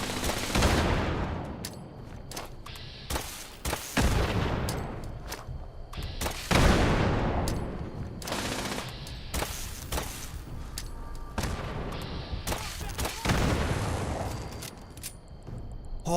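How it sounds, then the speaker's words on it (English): A laser gatling in Fallout 76 fires long, continuous rapid bursts of gunfire that stay loud and dense nearly throughout, with brief pauses and heavier booming hits mixed in. "Oh my god, that fucking laser gatling."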